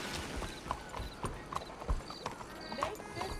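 A horse's hooves clip-clop steadily at a walking pace in the video game Red Dead Redemption 2, close by in a town street, with faint background ambience.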